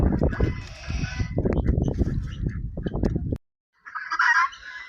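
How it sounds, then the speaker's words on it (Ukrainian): Indian Runner ducks, a drake and a duck, quack and honk in rapid, repeated bursts close by, followed by a short silence and a brief harsher call. "вирішили випустити пару бігунів індійських, подивитися, як поводиться качур"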